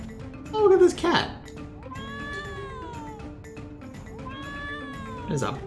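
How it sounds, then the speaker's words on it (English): A big cat creature in Trials of Mana lets out a snarling growl near the start, followed by game music and a second rougher growl at the end, with someone talking underneath. "Big cat."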